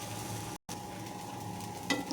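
A dosa browning on a hot pan gives a steady, even sizzle throughout, broken once by a brief gap, with a faint scrape near the end.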